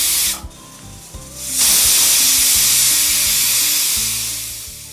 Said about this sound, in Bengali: প্রেসার কুকারের ঢাকনা বন্ধ করে নিয়ে গ্যাসের ফ্লেমটাকে হাইতে রেখে 2টো সিটি দিয়ে সবজি আর ভাতটাকে সেদ্ধ করে নেব